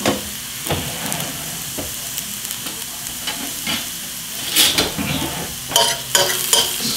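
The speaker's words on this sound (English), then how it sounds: "I'm going to drop some garlic down in there. It's not a bad sound." Garlic sizzles steadily in a hot pan for pan-seared scallops, with a constant frying hiss broken by a few scrapes and clinks of a utensil stirring against the pan.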